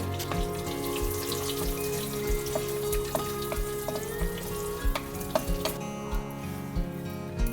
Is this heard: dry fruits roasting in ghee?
yes